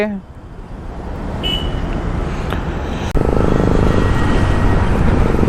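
A Royal Enfield Bullet with an aftermarket silencer exhaust rumbles steadily on a ride. The engine drone is loud and continuous and grows heavier partway through.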